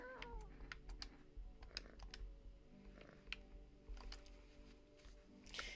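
A domestic cat gives a few short meows over sharp, intermittent clicking like computer keyboard typing in a quiet indoor room, with no voices.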